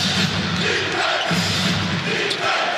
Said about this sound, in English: the fans get off their seat cheering for him